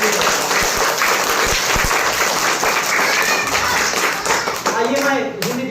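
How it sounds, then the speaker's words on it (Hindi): An audience at a Hindi Diwas stage performance bursts into sustained, dense applause, many hands clapping loudly and steadily before it thins toward the end. "आप सभी के तालियों में भी हिंदी दिवस के अवसर पर जोर होना चाहिए।"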